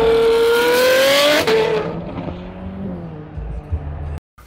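Ferrari sports cars on a street in Sochi: a loud engine revs up in a rising whine for about a second and a half, then fades as the car moves away, leaving quieter engine rumble behind.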